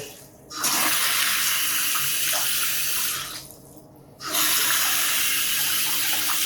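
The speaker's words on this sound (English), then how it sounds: "So water's working here." Hot water gushes from a sink tap in a house being renovated, running steadily, stopping briefly, then flowing again close by with no talk.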